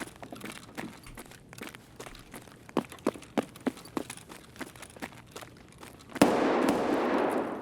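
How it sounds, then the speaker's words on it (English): Gunfire in the video game Escape from Tarkov: a string of sharp, irregular shots cracking at moderate distance, then a sudden louder blast that leaves a dense, sustained burst of noise. "I was getting shot at."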